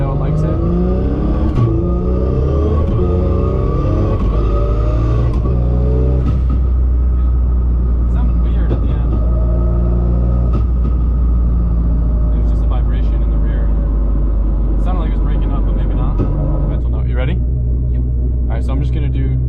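A Barra-engined Ford GT350 accelerates at half throttle on an airstrip, a loud rumbling engine note climbing in pitch over the first seconds, then settling into steady rumble with wheelspin, while people talk over it.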